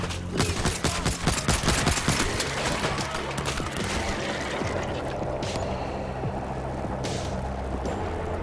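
Rapid bursts of automatic gunfire fill the first seconds in World War Z Aftermath, dense and loud, then thin to sporadic shots and a few isolated cracks over a steady rumbling game soundscape.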